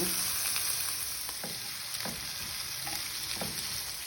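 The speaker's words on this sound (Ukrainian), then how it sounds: "Трішки підсмажимо з пасировкою." Sausages fry with sautéed vegetables in a pan for French-style soup, a continuous soft sizzle with occasional stirring scrapes, close and without talk.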